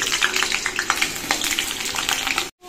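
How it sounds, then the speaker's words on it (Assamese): Potatoes hit hot oil in a wok and fry with a loud, bubbling crackle and rapid spitting pops, close up, before cutting off abruptly. "এতিয়া মই ইয়াতে আলুখিনি দি দিম।"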